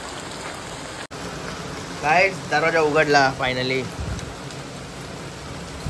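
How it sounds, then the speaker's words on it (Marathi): Heavy rain falls outside a house, a steady broadband wash that continues throughout, with people talking over it in the middle. "एवढा पाऊस पडतोय अजून लाईट नाही गेली आमची."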